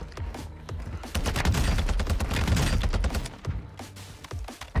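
Sustained automatic fire from a TAQ-V rifle in Warzone 2, loud rapid bursts with dense cracks running almost the whole stretch, briefly easing near the end before resuming.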